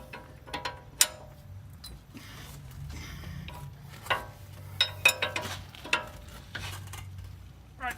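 A ratchet tightens the cross pin bolt on a 3rd-generation Toyota 4Runner upper control arm, producing scattered close metallic clicks and clanks over a low steady hum.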